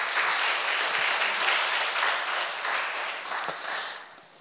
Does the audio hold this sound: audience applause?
yes